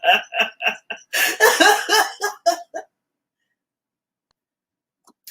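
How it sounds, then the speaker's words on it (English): A person gives a quick series of sharp coughs, about a dozen bursts in under three seconds, close and loud, then silence except for a faint click near the end. "based on his coughs, what's wrong with him?"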